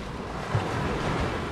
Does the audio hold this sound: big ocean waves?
yes